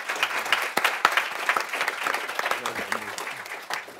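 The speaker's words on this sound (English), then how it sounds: "give a warm round of applause to our amazing distinguished panelists today" Warm applause from the audience at a roundtable on reversing the school-to-prison pipeline: crisp, individual claps merge into a moderate, steady ovation, with a voice briefly heard beneath it.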